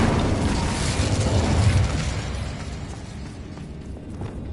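A fiery Incendio spell blasts out in a sorcery video game, a loud roaring burst that swells over the first two seconds and then trails off into a crackling, fading rumble.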